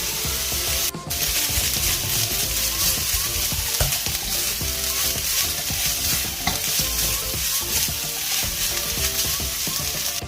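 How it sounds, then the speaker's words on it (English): Grated coconut fries in a pan toward golden brown for Goan chicken xacuti, giving a loud, dense, continuous sizzle with constant stirring that drops out briefly near the start before resuming. "Fry the coconut till it's golden brown."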